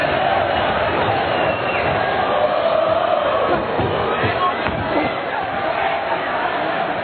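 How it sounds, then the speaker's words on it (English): A boxing arena crowd roars in a dense, continuous swell during a professional bout, with cheering rising over the noise and a commentator talking throughout. "the work of Burns emphasised by the crowd's reaction"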